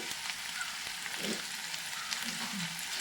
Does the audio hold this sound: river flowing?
no